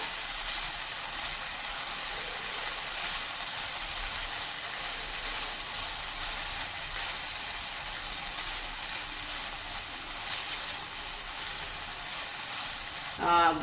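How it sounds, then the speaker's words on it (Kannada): Okra dry-fried in a pan without water, a steady broadband sizzle running throughout with occasional stirring scrapes and a brief clatter at the very end. "ನಾನು ಇದಕ್ಕೆ ನೀರನ್ನು ಉಪಯೋಗಿಸಲ್ಲ, ಹೀಗೆ ಡ್ರೈ ಫ್ರೈ ಮಾಡಿನೇ ಪಲ್ಯ ಮಾಡೋದು"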